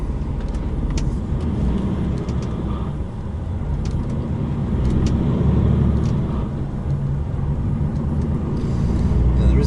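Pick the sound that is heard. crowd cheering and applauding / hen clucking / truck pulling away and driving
truck pulling away and driving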